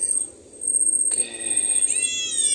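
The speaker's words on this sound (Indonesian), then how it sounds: "Makan umpan nih kucing." A cat eating fish bait at a riverside spot while people fish for mullet on a windy, overcast day gives a couple of drawn-out, rising meows over a low murmur of wind and background noise.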